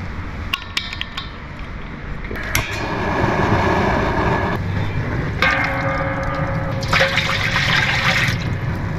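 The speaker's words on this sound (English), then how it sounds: "we're gonna add some water" Water pours and splashes steadily into a metal crab-boiling pot, with vinegar also going in; the flow is loud and close, rising and falling over several seconds amid clanks and knocks.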